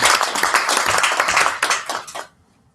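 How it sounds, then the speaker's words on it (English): Dense, lively clapping from a conference audience rings out for a couple of seconds, then stops abruptly into quiet. "Don't clap yet."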